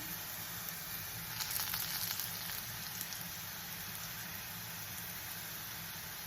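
Carrots sizzle and fry in a pan, a steady, even crackling hiss that stays fairly quiet and unbroken throughout, with no voices.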